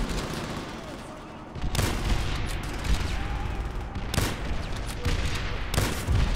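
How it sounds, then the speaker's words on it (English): Dense, continuous gunfire fills a Call of Duty: World at War firefight, with rapid overlapping shots and heavier booming bursts layered together at a loud, steady level. "I think they shooting on the other side as well"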